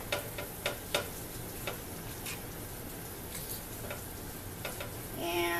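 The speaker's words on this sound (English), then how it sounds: "So I've got my pan hot, and I'm going to lube it generously with butter." Butter sizzles in a hot pan before pancakes go in, a faint steady crackle with scattered sharp ticks and pops, rising slightly at the end.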